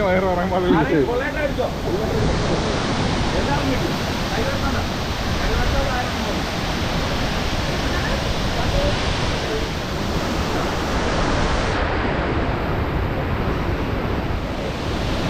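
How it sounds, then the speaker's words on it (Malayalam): The Meenmutti waterfall in the Agasthyakoodam valley near Neyyar, Kerala, a loud, dense, unbroken roar of falling water heard up close, with faint voices early on and some wind buffeting the microphone. "അഗസ്ത്യകൂടത്തിൻ്റെ താഴ്വരയിലുള്ള മീൻമുട്ടി വെള്ളച്ചാട്ടം"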